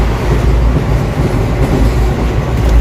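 A train runs along the rails with a steady heavy rumble and faint rhythmic rattling, close and continuous, with no speech.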